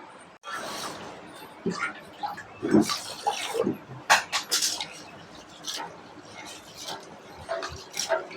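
Basmati rice is swished and rinsed in water in a pot, irregular sloshes, splashes and clinks close by with occasional quiet pauses.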